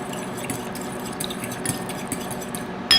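Beef is stirred together with soy sauce and cornstarch in a bowl, a steady run of soft wet clinking and scraping strokes, close and fairly quiet, with no voices.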